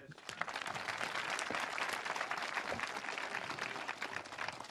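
Audience applause at a village talent show in Minnertsga, dense continuous clapping from a large crowd, loud and sustained with scattered voices underneath.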